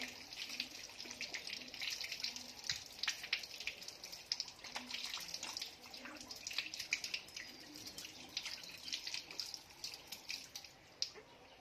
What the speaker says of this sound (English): Then rinse hands with water.